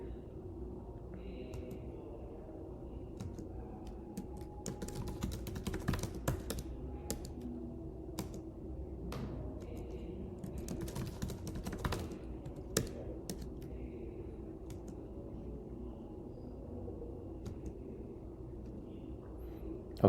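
A computer keyboard is typed on in short, quiet bursts of clicks with gaps between them. The clicks are faint against a low room hum.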